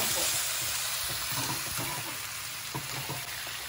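Braising liquid of sugar and sauces in a pot on the stove, being brought to a boil over a flame turned down to medium: a steady loud hiss and bubbling seethe with small pops throughout and no talk.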